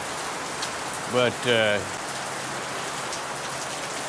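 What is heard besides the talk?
heavy rain from Typhoon Karding pouring down on a house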